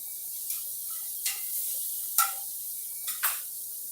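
Corn cooking in a pan on a Louisiana homestead, a soft steady sizzle with a few louder stirring clinks and scrapes, close and quiet, with no talking.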